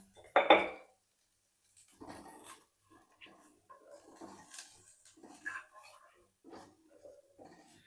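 Macaroni is stirred in a pan: a sharp utensil clank at the start, then quiet, scattered scraping and soft clinks against the cookware, with faint voices nearby.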